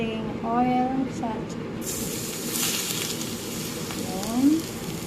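Hot oil poured over steamed eggplant with garlic and chili gives a sudden, steady broadband sizzling hiss that starts partway through and continues under a person talking.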